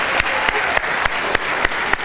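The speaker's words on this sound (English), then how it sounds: "Let's give a big hand of applause to our protein and to our meal." Continuous applause from a crowd, a dense steady patter of clapping with sharp regular thumps punctuating it.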